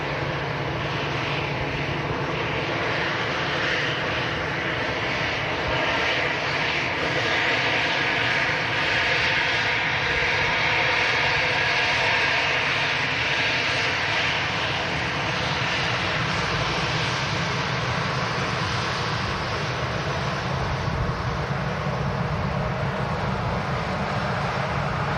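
An Iberia jet bound for Madrid rolls for takeoff, its engines a dense, continuous roar that swells slightly midway and stays loud and steady, heard from a distance with no voices.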